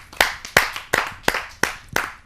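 An audience at a Hindi kavi sammelan poetry gathering claps to welcome a poet, with sharp, close bursts of clapping that come in repeated swells about every third of a second and carry no speech.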